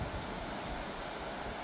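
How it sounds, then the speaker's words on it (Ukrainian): Ocean surf churning against rocky shoreline on Madeira, a steady broadband wash with low rumbling swells, continuous and fairly close, no voices. "А отам як гарно бушує океан."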